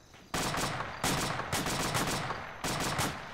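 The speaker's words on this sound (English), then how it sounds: "I'm shooting to kill." Sustained automatic gunfire in a military video game, loud and close, coming in dense bursts that restart several times with brief breaks between them, with no talk.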